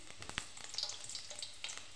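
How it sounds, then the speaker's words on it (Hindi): Fenugreek seeds and garlic frying in oil give a quiet, close sizzle of scattered crackles and pops over a couple of seconds. "इधर हमने मेथी दाना डाल दिए हैं, और उसके बाद लहसुन डाल दिया है।"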